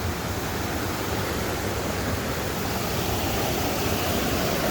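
A waterfall rushes in a steady, dense roar of falling water, loud and constant throughout, with no voices heard.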